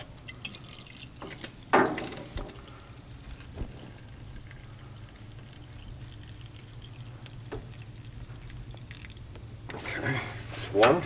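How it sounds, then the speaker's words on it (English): Gasoline drains from a carburetor float bowl after a screw is pulled, a faint trickle and a few drips over a steady low hum, with occasional louder clicks of handling. "this will let the gasoline drain out"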